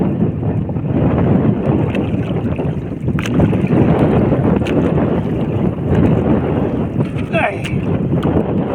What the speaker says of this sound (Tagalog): Mabugso-bugso yung hangin.